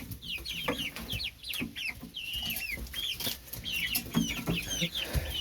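Cuckoo Marans hens cluck and chatter nearby in a backyard flock, a busy overlapping stream of short calls and squawks with scratchy rustling beneath.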